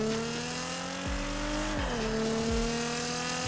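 A Nissan GTR engine in GTA 5 screams loudly through a sustained high rev, with the pitch sliding down in steps as gears shift and a few short drops, heard close and alone.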